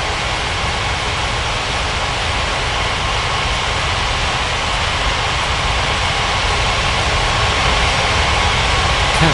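A jet airliner's engines roar steadily and loudly through a takeoff run in an air traffic control game, a dense continuous rumble and hiss with no pauses or voices.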